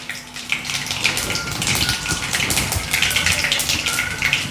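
Mustard seeds and cumin sizzle in hot oil in a home kitchen, a steady crackling hiss with scattered sharp pops, close and fairly loud, continuous for a few seconds.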